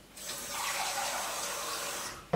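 Water runs steadily from a tap into a cup, to be boiled for coffee, as a close, continuous splashing rush that lasts about two seconds and ends with a brief clunk.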